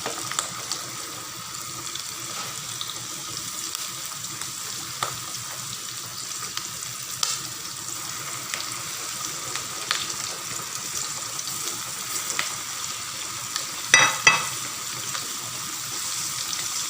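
Pork chops frying in hot oil for a crispy fried dish, a steady close sizzle and crackle running throughout with a few sharper pops near the end; no talking.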